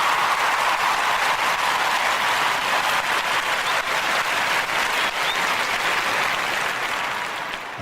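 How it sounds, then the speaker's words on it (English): Steady applause fills the whole stretch, a dense wash of clapping at even loudness that fades slightly at the end, with no voices over it. "I got to give you all a clap."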